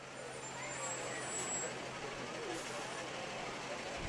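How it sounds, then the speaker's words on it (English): A fire department water truck rolls past in a street parade, a steady broadband engine and road rumble close by with a faint high whine, staying loud and even throughout. "One of the water trucks that they'll have to use when they've got to deal with brush fires out in the fields"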